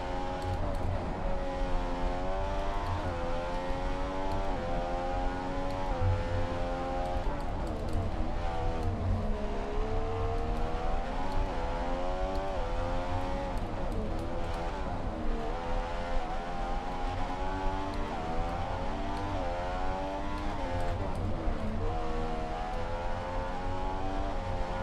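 F1 2015 race cars lapping the Hungarian Grand Prix in the video game, engines whining and revving up and down through the gears in a continuous loud drone, with no voice over it.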